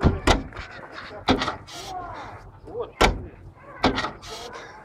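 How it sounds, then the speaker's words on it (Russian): A car trunk is opened during a test, giving several sharp latch clunks and thumps spaced through the clip, with people talking and exclaiming around them. "Тест открывания багажника."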